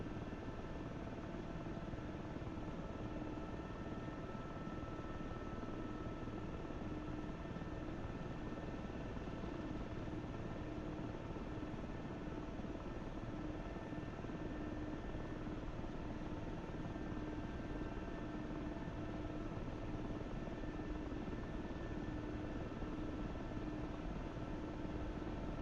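A helicopter carrying a squad lifts off with 50% collective, its rotor and turbine drone steady, loud and unbroken from start to finish, with no voices.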